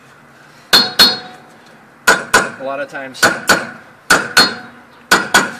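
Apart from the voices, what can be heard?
hammer striking stuck Toyota Corolla wheel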